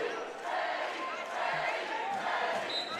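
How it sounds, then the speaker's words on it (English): Student section crowd at a college basketball game cheers and roars steadily, a dense wash of many voices filling the arena without a break. "CUW student section is cheering for the mascot"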